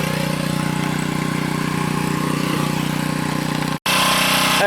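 A log splitter's small engine runs steadily and loudly at a constant drone after its belt has been thrown, cutting out briefly for an instant before resuming.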